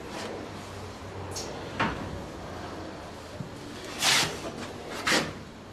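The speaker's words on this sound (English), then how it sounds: "open this door here to see it" A door being opened in a compressor workshop: several short wooden thumps and clattering knocks, moderately loud and close, over a steady background hum.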